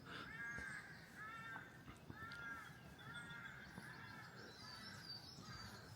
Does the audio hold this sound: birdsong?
yes